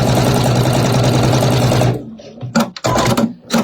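A sewing machine stitches a star quilt block in a fast, even run of needle strokes for about two seconds. It then stops, leaving a few scattered clicks and handling noises.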